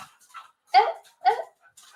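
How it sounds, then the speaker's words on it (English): Dogs playing indoors give a couple of short, sharp yipping barks close by, separated by brief pauses. "So the dogs have started playing now."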